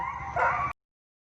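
An injured dog that fell from a building and struck the ground after catching on power lines whimpers and yelps in a short, strained burst that rises in the middle and cuts off abruptly.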